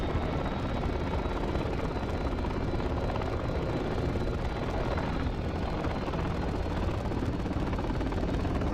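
An aircraft engine in the DCS flight simulator game as the throttle is pushed up for takeoff: a loud, dense, continuous roar with a fast rotor-like beat that stays steady throughout.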